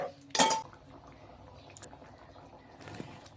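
A spoon knocks against a metal pan as a tomato and chilli paste goes in for a rohu fish and yam curry: one sharp clatter, then quiet, faint scraping and a soft clink near the end.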